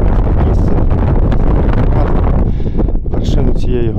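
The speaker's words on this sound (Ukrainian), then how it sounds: "і вітер хвилює, і стає холодно." Strong wind buffets the microphone on an autumn mountain trail in the Carpathians, a loud rough rumble that continues throughout while a person talks.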